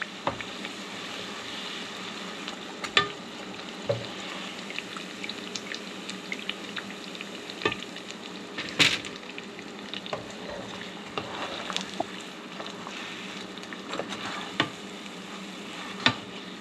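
Coconut cream pies with a flaky crust frying in hot oil, a steady close sizzle and bubbling with occasional sharper crackles and pops throughout.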